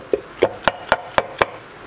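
A steel hammer taps a bearing into the rear end of a Honda S600 chain drive car: six sharp, evenly spaced metallic knocks, close and distinct, each fading quickly.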